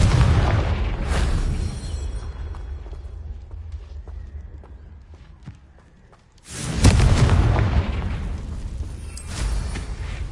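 A Confringo fire spell explodes in Hogwarts Legacy with a loud booming blast, its rumble fading over several seconds before a second heavy explosion bursts in near the end.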